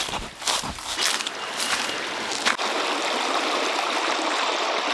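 A river flows with a steady broadband rush of water, close and continuous, while footsteps and rustling sound in the first half and then give way to the constant flow alone.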